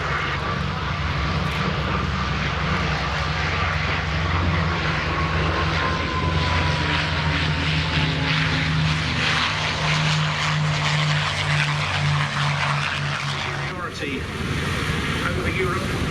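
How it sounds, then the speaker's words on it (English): Boeing B-17 bomber at the Duxford Battle of Britain airshow, its four propeller engines droning loud and steady with a deep throb, the pitch sagging slowly as it passes and touches down, with brief announcer speech. "touching down in the B-17"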